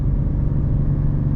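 Steady, loud low engine rumble from a 2019 Mercedes C43 AMG launching hard from a dig at close to 3,000 RPM, a continuous droning roar held throughout the short stretch with no talking.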